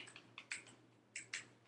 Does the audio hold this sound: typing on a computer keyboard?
yes